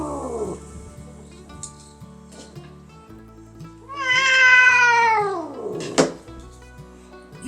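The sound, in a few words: stray cat meowing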